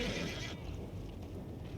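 A horse whinnies in Red Dead, a short, bright, high neigh at the start that quickly drops off, followed by faint low rumbling ambience; quiet overall, with no talking.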